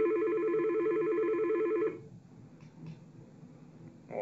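A Yealink SIP desk phone rings with a transferred call, a loud, even electronic ring pattern for about two seconds, then it stops, leaving faint room noise and small handling sounds.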